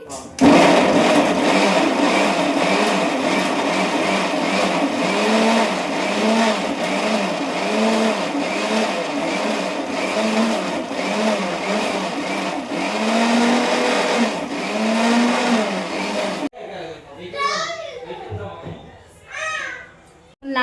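An electric mixer grinder whirs loud and close as it grinds a tomato, onion, ginger and garlic masala paste, its motor pitch wavering in pulses for about sixteen seconds. Then it stops and voices follow.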